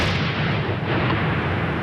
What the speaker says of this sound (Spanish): Explosiones seguidas,